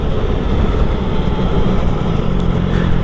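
A motorcycle carrying a mounted GoPro Karma Grip rides along a road, with a steady loud engine drone and wind rumble throughout.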